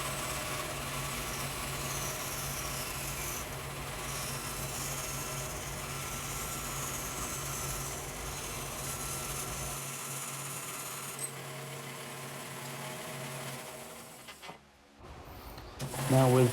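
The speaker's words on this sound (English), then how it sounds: "So I have my bed on my bandsaw here set at a 10-degree angle." Bandsaw with its bed tilted to a 10-degree angle roughing out wood for a bent lamination, a continuous whirring hum with a steady cutting drone that cuts out near the end.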